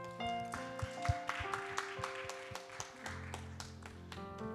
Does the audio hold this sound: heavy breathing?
no